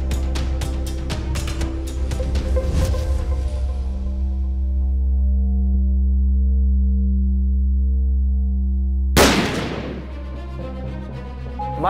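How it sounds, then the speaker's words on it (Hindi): One sudden, loud gunshot bursts out and rings away, heard over a low, steady musical drone with no voices. "ये तो गन की आवाज है ना?"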